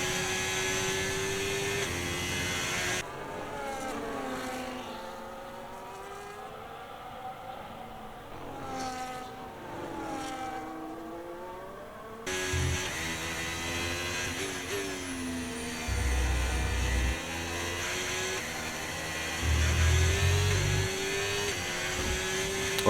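A Haas Formula 1 race car engine in a racing video game at the Texas (USA) Grand Prix screams at high pitch, rising and falling through gear shifts and revs, with an abrupt change in tone partway through.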